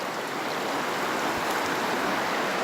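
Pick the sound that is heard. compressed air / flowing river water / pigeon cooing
flowing river water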